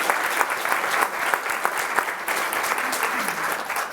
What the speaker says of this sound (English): congratulations, it deserves a round of applause